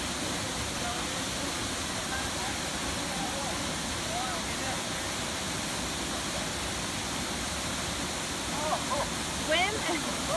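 A waterfall on the Road to Hana in Maui roars as a steady broadband rush of falling water, loud and continuous. Faint voices and a few brief high calls rise over it near the end.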